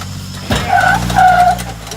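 An off-road vehicle crawling over rocks gives a short engine rev and surge with tire scrabble, near and loud, while a voice is briefly heard.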